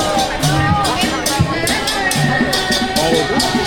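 Dense festival crowd at the Rath Yatra chariot procession, a continuous loud hubbub of many voices with scattered nearby talking and shouts mixed in throughout.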